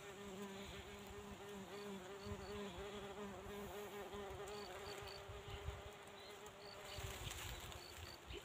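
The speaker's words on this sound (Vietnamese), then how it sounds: "ong về ăn rất nhiều anh em ạ, ong vàng nhé." Yellow wasps buzz steadily around a bird trap outdoors, a dense continuous drone of many insects close by with no talk.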